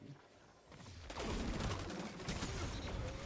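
Fusion rifle firing in Destiny 2 PvP, a quiet lead-in giving way to a loud, dense charged burst and sustained crackling barrage that runs to the end.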